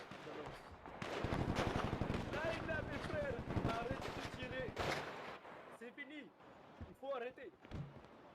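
Rapid bursts of gunfire outside a courthouse crackle through the recording, mixed with overlapping shouting voices and chaotic noise.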